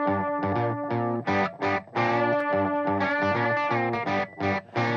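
Distorted electric guitar chords processed with parallel compression and a wide stereo imager, played in a driving rhythmic pattern of chugged, gated stabs, loud and close with no voices.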